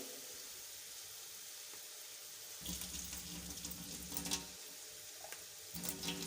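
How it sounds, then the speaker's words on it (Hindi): Water pours in a steady stream for a couple of seconds, splashing and hissing against frying spice masala in a hot pan, then another short pour follows. "थोड़ा सा पानी शामिल कर लेंगे।"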